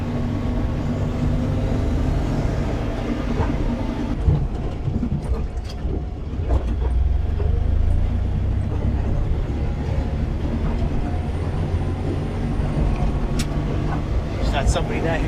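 A classic Ford Anglia engine drones steadily throughout from inside the car, with road rumble and occasional clicks, while a person talks over it.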